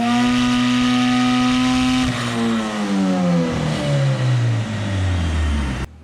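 Race car running on E85 fuel with an engine that came out of a Honda CRX, revving loudly and continuously, pitch climbing then sliding down through several sweeps before cutting off abruptly at the end.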